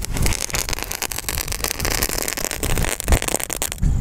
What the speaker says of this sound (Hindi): ये तो एक पटाखे की लड़ी की तरह फटा यार